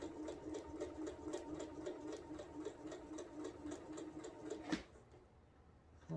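A sewing machine quilting a placemat stitches in a steady rapid rhythm, close and loud, then stops near the end, leaving quiet.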